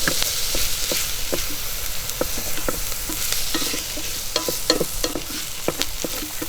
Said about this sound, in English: now that I have sauteed the onions and the garlic together